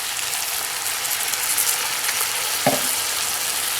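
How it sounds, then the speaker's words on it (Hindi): An onion, green chili and coriander paste sizzles loudly and steadily while it is stirred in a pan for Kashmiri rogan josh, with one brief scrape of a utensil partway through. "इसे ऐड करें और अच्छी तरह पहले इसको मिक्स कर लें।"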